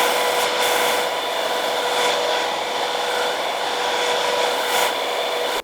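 Fingers working styling product through dry hair at close range, a steady broadband rubbing hiss that stays level and continuous throughout before stopping abruptly at the end, with no talk.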